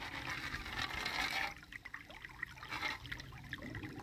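Water swirling and sloshing in a gold pan during fast panning outdoors, a rushing wash that eases into softer trickles and dribbles, close and moderately faint.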